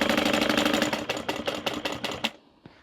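A sewing machine top stitches the edges of fabric on a handmade car trash can, running in a steady rapid whir with rhythmic needle pulses that break into separate strokes, then stop near the end.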